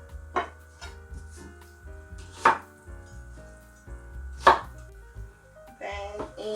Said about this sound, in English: So I cut the onions really big